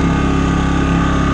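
A generator powering a towable RV trailer runs with a loud, steady, close engine drone that holds throughout.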